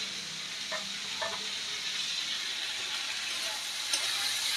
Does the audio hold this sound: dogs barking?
no